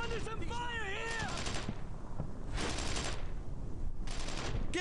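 Gunfire in the WWII shooter Brothers in Arms: Earned in Blood, with bursts of rapid automatic fire coming in loud waves, mixed with shouted voices and battle noise.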